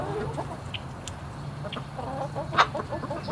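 Chickens cluck in a cage, several birds making scattered close clucks and short calls over a low background hum.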